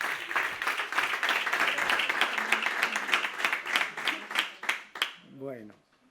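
An audience at a book presentation in Madrid claps for a speaker in dense, sustained applause that swells in waves, then thins to a few scattered claps as a voice starts speaking at the end.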